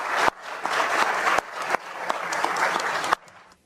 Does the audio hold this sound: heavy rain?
no